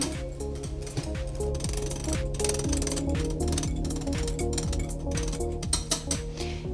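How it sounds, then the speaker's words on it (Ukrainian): Spoon stirring coconut dessert batter with yogurt in a bowl, a steady run of scraping and clinking strokes against the bowl, near and continuous with no talk. "Тепер сюди я додаю йогурт або сметану. Знову гарно перемішую до однорідності."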